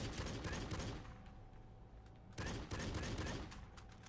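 Gunfire in the video game Secret Service comes in rapid, dense bursts: a long volley, then a short pause, then another sustained burst of repeated shots.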